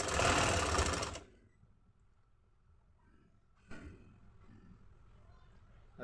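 Sewing machine stitching trousers: a loud, steady mechanical whir runs for about a second, then stops abruptly, leaving quiet room noise before a softer rumble returns.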